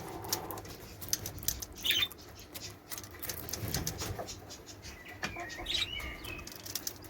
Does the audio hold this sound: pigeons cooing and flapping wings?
yes